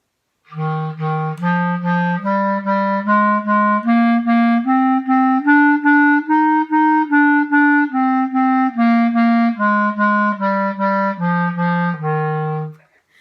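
A clarinet plays a steady one-octave scale up and back down in evenly tongued eighth notes, clear and close with no accompaniment.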